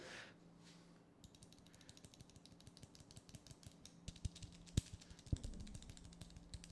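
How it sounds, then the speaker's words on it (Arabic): Replacement switches on a Redragon K630 mechanical keyboard tap out a quiet, rapid run of light clicks that grows slightly denser and louder toward the end, with a few sharper strikes standing out. "وصوت السويتشات دي جميل قوي اسمع كده"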